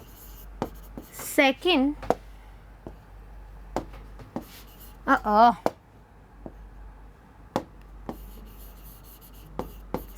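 Marker or chalk strokes land on a board during a biology lesson on flowering plants, with sharp, scattered taps and short scribbling bursts, and a voice talks in between.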